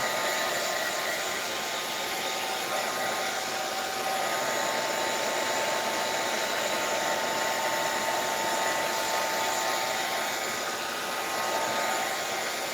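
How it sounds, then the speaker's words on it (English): A hair dryer blows continuously on a steampunk-style altered book and junk journal, a steady loud whirring hiss that runs unbroken throughout with no talking. "I have to blow dry all this."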